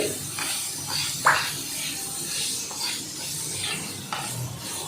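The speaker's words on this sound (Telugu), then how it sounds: "ముక్కల్లో కలిసేంత వరకు మనం తిప్పుకుంటూ ఉండాలి" Vegetable pieces coated in ginger-garlic paste are stirred in a pan, giving soft, faint scraping and rustling strokes at an irregular rhythm, with one sharper clink partway through.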